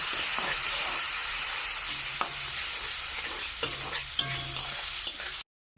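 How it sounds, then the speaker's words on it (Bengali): Onion paste fries in hot oil while a spoon stirs it, giving a steady close sizzle with scraping strokes and a few clinks. It stops abruptly just before the end. "এবার এর মধ্যে দিয়ে দেবো পেঁয়াজ পেস্ট। ভালো করে তেলের সঙ্গে মিশিয়ে নেব।"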